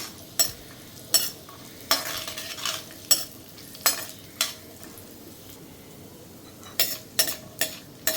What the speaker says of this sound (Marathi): आता हे ड्रायफ्रूट सगळे मस्त परतून झाले आहेत